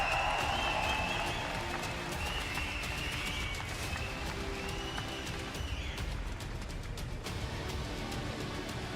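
Crowd noise fills an Apex Legends Global Series championship finals watch party, a steady wash of cheering and applause that holds for the whole stretch without letting up.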